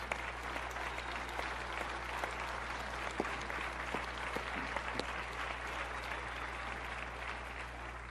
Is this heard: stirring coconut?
no